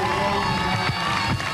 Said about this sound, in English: the people of Naples and Florida applauding his efforts